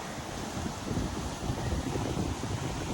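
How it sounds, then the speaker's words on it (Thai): Steady, broadband rushing water from a small stream flowing nearby, with a continuous wind-like hiss and no voices. "พอเดินเล่นตรงนี้ก็จะได้ยินเสียงลำธาร"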